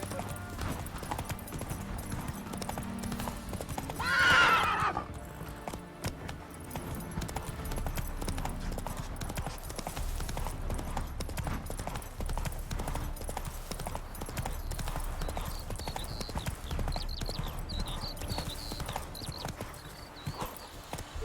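A horse gallops in a video game, steady rapid clip-clop hoofbeats running throughout with a brief whinny early on, over a low game soundscape and a faint distant voice.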